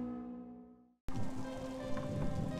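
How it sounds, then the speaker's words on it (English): Rain in the horror video game Dementium: The Ward starts abruptly after a fading musical chord and a brief silence, then continues as a dense, loud steady downpour with nothing else over it. "Of course it's raining."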